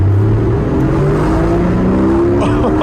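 A Porsche Boxster GTS 4.0 accelerates in normal mode, its engine droning loud and steady with a rising pitch as it pulls, heard from inside the cabin.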